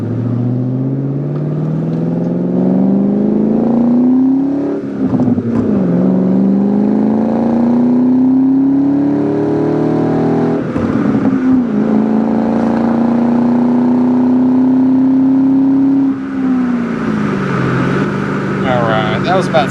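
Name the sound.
2001 Ford Mustang Saleen accelerating on test drive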